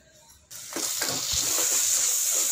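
Ground spices, salt, coriander powder and Kashmiri chilli powder for a mushroom masala go into a hot pan. After a quiet start, a sudden sizzle rises into a steady hiss with light stirring thumps and no talk.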